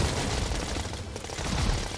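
Dense, sustained automatic gunfire in the video game Fortnite, a loud continuous rattle of shots filling the whole stretch with no pauses.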